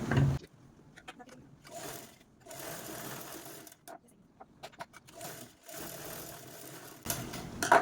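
A sewing machine top-stitching fabric for a small mini purse, running in several short bursts of rapid mechanical rattling broken by pauses, close by and fairly quiet.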